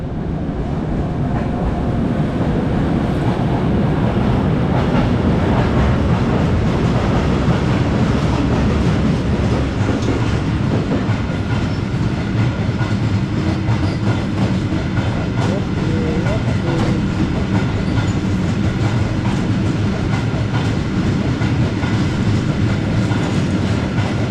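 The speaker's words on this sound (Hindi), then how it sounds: "ये कार्गो ट्रेन गुजरी है यहाँ से।" A loaded cargo train carrying soil rolls past in the Netherlands, a loud, steady rumble with rhythmic clatter of wheels on track filling the whole stretch, close by and continuous.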